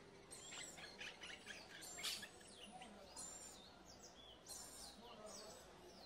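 Bird calls from a pet bird at a large exotic pet market in China, a few brief high chirps repeating near the mic over a steady busy background hum.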